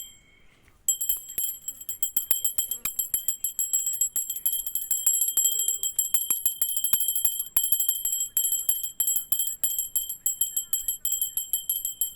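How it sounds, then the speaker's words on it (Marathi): A bell rings rapidly and continuously for about eleven seconds after a quiet opening, a bright metallic repeated clatter at an even pace, loud and alone. "घंटी वाजवा."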